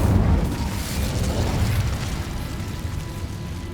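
Incendio fire spell cast in Hogwarts Legacy, a loud, sustained fiery burst with a rumbling low roar that carries through the whole stretch and fades slightly toward the end, no voices.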